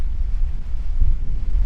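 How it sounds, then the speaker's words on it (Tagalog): Very strong wind buffets the microphone on a beach with fine sand, a loud, steady low roar rumbling throughout with no voices. "napakalakas ng hangin"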